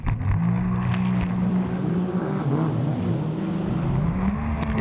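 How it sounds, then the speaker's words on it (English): A highly tuned Sea-Doo aqua bike races across the water in an international championship, its engine droning loud and sustained with slight pitch shifts as it speeds past. "Absolutely flying on the highly tuned Sea-Doo"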